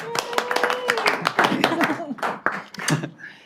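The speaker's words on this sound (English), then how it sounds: "And then, of course, another round of applause" Applause at a city council meeting, a short burst of fairly close hand clapping with a speaker's voice continuing over it.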